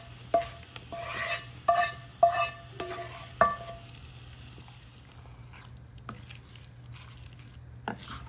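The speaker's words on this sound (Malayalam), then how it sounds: "കടുക് പൊട്ടിച്ച് നമുക്ക് എരിശ്ശേരിയിലേക്ക് ചേർക്കാം." A mustard seed tempering is stirred into a pumpkin, yam, raw banana and bean erissery curry. A spoon scrapes and clinks in several quick taps with a soft wet sizzle, and then things settle into quiet background hum.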